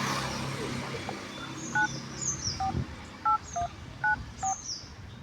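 Phone keypad dialing tones sound while a number is entered on a borrowed phone: about eight short, clear beeps in an uneven sequence, with faint background noise and brief chirps in between.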